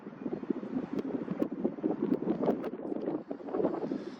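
Gusting wind buffets the microphone with low, uneven rumbling and flutter, steady throughout and fairly quiet.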